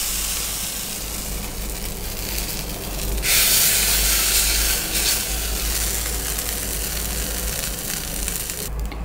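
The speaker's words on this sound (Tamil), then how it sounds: "நான் கடுகு தாளித்து கொட்டிட்டேன்." Hot mustard seed tempering poured into Kanchipuram idli batter, a continuous close hiss and sizzle that swells into a brighter, louder burst midway, then settles into a steady crackle with no talk.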